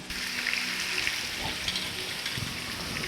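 Pieces of chicken, part of a large batch for a Mysore-style ghee roast, fry in hot oil with a loud, continuous close sizzle and crackle and no talk.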